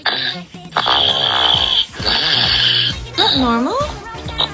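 A person snoring loudly and continuously, harsh rasping breaths with snorting, pig-like grunts, close to the microphone and filling the whole stretch with only brief pauses.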